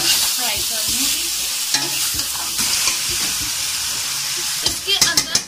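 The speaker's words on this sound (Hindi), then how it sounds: "अब मैं इसको अच्छे से फ्राई कर लूँगी।" Fish pieces sizzle and spit steadily in hot oil in a karahi, with stirring scrapes and clatters throughout and a louder burst of crackling near the end.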